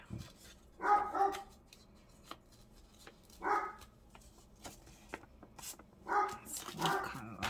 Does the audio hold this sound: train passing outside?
no